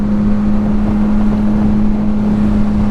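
A modified 2025 Yamaha MT-09 motorcycle rides up a mountain road, its engine holding a steady, even drone at constant speed with wind rush over the microphone throughout.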